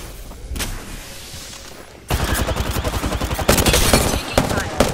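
Heavy gunfire in the Apex Legends video game: a quiet stretch, then from about two seconds dense, rapid bursts of shots roll on loud and close, with speech mixed in.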